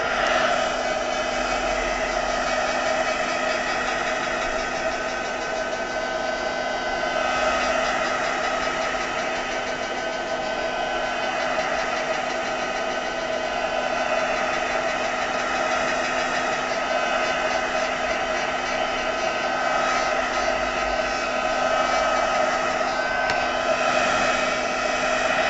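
A craft heat or hair dryer blows continuously over a handmade card in an industrial-themed papercraft session, giving a loud, steady whirring hum with no pauses or talking.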